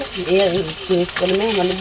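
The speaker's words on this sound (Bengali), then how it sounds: "এই ইলিশ মাছ ভাজতেছে, ভর্তার সাথে ইলিশ মাছ ভাজা" Hilsa fish frying in a pan gives a steady, soft sizzling hiss that runs beneath a person talking close by.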